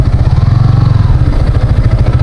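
A motorcycle engine idles with a steady, throbbing low pulse and revs lightly now and then, close by and loud in a parking area during a breakfast ride toward Tagaytay.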